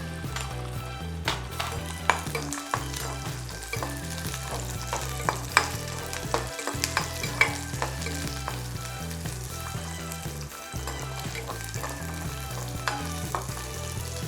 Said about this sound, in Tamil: ஸோ இதை நம்ம நல்லா கோல்டன் ப்ரௌனாக ஃப்ரை பண்ணிக்கலாம்.